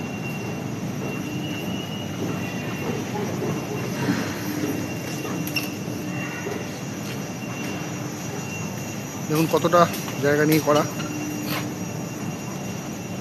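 A Kolkata metro train rumbles steadily through a station, its wheels letting out a brief high squeal near the end while someone speaks over the noise.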